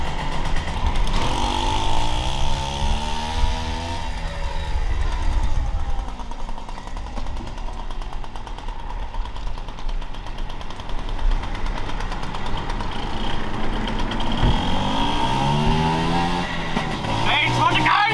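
Moped engine started and revved outdoors, a rough buzzing motor rising and falling in pitch over a long stretch, close and loud, with people talking over it.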